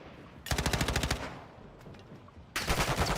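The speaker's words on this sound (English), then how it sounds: "Oh, it's just a decoy grenade." A decoy grenade in the game DMZ fakes gunfire with two rapid automatic bursts, a long burst of close, loud shots, a short pause with faint noise, then another fast burst.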